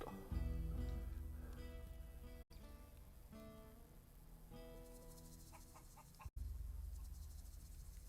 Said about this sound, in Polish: Kura, kura.